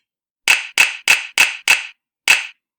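Crisp hand claps in a short rhythmic pattern for a second-grade rhythm echo exercise: five evenly spaced claps, a pause, then one final clap, close and dry with no talk.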